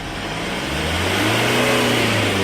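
An older Kia Sorento engine is revved hard during an exhaust smoke check, its loud mid-pitched roar climbing steadily in speed and holding up close.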